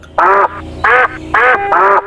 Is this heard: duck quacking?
yes